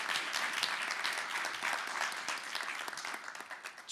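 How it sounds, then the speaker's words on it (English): Sustained applause from an audience at a healthcare equity talk, a dense crackle of many hands clapping steadily throughout, fairly close and even in loudness. "I think I would like to give a round of applause to you."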